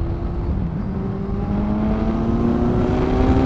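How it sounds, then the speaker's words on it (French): A 2018 Kawasaki Z1000SX motorcycle engine revs high and loud, its tone climbing steadily as it pulls hard under load, heard up close from the rider's position with wind rush behind it. "le moteur démarre à 7000 tours"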